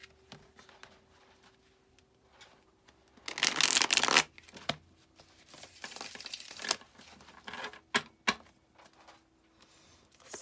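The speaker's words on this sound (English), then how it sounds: "One more shuffle." Tarot cards being shuffled in a quick riffle burst, followed by softer handling and a few sharp taps and slides in an otherwise quiet room.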